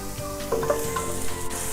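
Onion and garlic frying in a pan as the base for KFC-style chicken give a steady close sizzle with light stirring and scraping sounds, and no voices.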